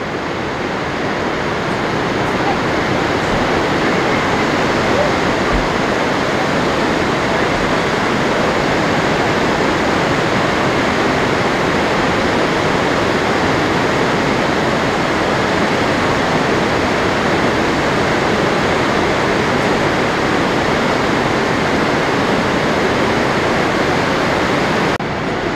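A large waterfall, Europe's biggest, roars from below and in front of the falls, a loud, steady, broadband rush of falling water that fills the whole stretch without talk.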